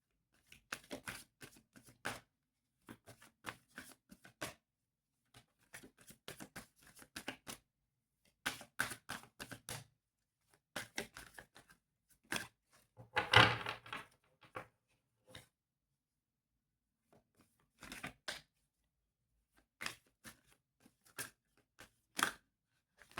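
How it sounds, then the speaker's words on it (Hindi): Tarot cards are shuffled and slid out of a deck in short bursts of crisp riffling and papery flicks, close and quiet, separated by silent pauses, with one louder rustle in the middle. "I'm gonna pull out three cards from this deck"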